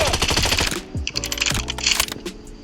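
Sniper fire and other gunfire in a video game, a loud, dense barrage of sharp rapid bursts packed with clattering shots and game effects, with no quieter gaps.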